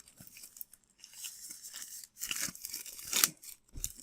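Plastic packaging torn off Cthulhu: Death May Die board game parts, intermittent crinkly rips and crackles in short bursts with brief pauses, close and fairly quiet.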